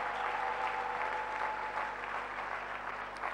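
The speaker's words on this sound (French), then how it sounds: "Nous pouvons l'acclamer très fort." A church congregation applauds and cheers loudly in a steady, dense wash of clapping that holds for a few seconds, with no clear break.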